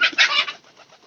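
Domestic pigeons kept by a keeper give a couple of close, soft bursts of cooing and rustling in the first half second, then fade to quiet shuffling.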